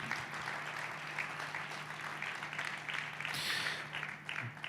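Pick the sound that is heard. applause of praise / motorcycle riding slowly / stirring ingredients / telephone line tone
applause of praise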